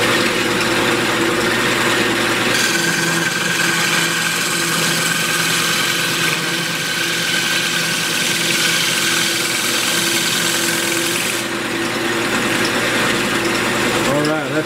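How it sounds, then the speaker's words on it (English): Wood lathe spinning steadily as a gouge cuts a spalted walnut vase, a constant motor hum with scraping texture from the tool on the wood throughout. "but I'll get all this with a gouge"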